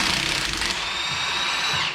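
A power tool whirs loudly at close range while removing bolts from the differential mount of a turbocharged Honda S2000, one continuous high-pitched spin that eases off near the end.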